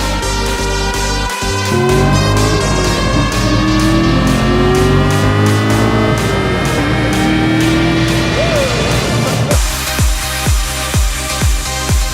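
A car on a parade lap at Silverstone circuit, its engine roaring loudly and climbing in pitch through the gears, then dropping into a rhythmic pulsing drone near the end.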